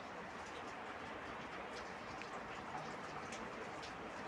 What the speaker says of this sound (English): I know you can hear the rain. It just started.